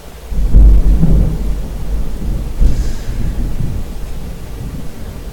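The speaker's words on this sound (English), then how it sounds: "I hear the thunderstorm." Thunder rumbles through a thunderstorm, opening with a loud low crack and rolling on with a second swell midway, steady rain-like noise beneath, no voices.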